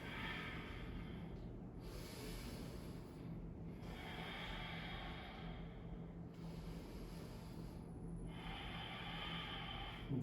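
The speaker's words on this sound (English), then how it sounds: "Deep breath in. Exhale." Slow, deep yoga breaths drawn in and let out through the nose, close and airy, in a repeating rhythm of about four long cycles with short pauses between.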